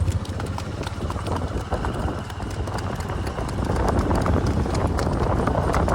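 Steady clip-clop of a ridden horse's hooves on the road, continuous and fairly loud, with a vehicle nearby and a low, constant rumble beneath the rhythmic hoofbeats.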